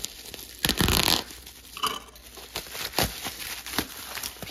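Cardboard package packed with packing peanuts being cut open, with several loud tearing rips and crinkly rustles in short bursts, close and fairly quiet overall, no speech.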